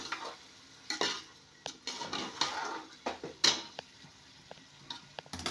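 Ingredients for egg biryani frying in a pan at home, with a low sizzle broken by repeated sharp scrapes and clicks of a spoon stirring against the metal, close and fairly quiet, no voices.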